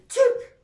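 A single short sneeze, close and clear, rising sharply then trailing off into a breathy tail against a quiet background.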